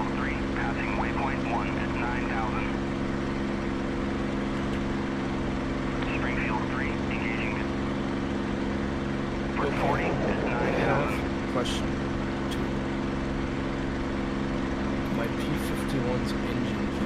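Propeller engine drone of a P-51 Mustang in the DCS World War II flight simulator, a steady loud hum running throughout, with radio chatter and voices talking over it.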